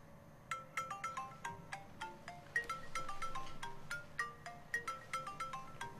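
A mobile phone ringtone plays faintly from inside a bag, a bright repeating melody of quick tonal notes rising and falling over a quiet background.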